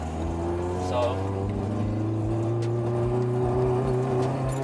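A Honda CD5 with an H22A engine revs hard at wide open throttle, a steady loud engine drone with rising harmonics running throughout, and a voice says a word near the start.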